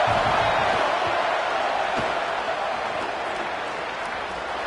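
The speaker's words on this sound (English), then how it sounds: "The Buckeye crowd alive on 3rd down" A stadium crowd roars during a college football video game, a loud, continuous wash of cheering on third down in a Buckeye stadium, steady throughout.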